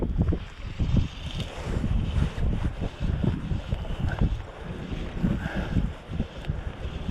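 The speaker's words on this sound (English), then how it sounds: "the wind's picked up pretty brisk again" Brisk wind at a loch on Orkney buffets the microphone with loud, gusty rumbling that swells and eases, mixed with the wash of waves on open water.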